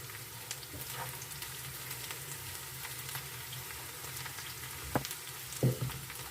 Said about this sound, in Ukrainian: тут смажиться в нас